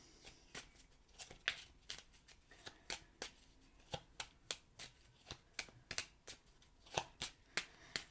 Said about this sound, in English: Let me throw in some more cards, this time with angel answers.